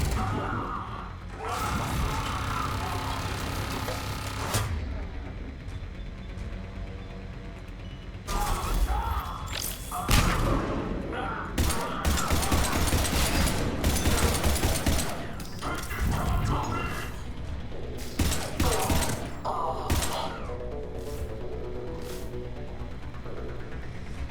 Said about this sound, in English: There's a turret.